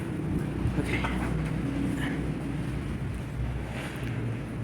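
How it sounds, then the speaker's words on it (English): Strong wind buffeting the microphone at an apartment construction site, a steady loud low roar with gusty rumble throughout, no talk. "it's so windy"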